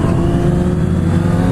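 A Honda CB650 motorcycle being ridden and accelerating, its engine a loud, steady, close droning roar with strong low tones throughout.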